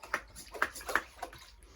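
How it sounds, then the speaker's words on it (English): Water trickles and splashes into a Venezuelan suntiger tarantula (Psalmopoeus irminia) enclosure in a few short pours, faint and close, with soft ticking and sloshing between them. "I'll add a little bit of water."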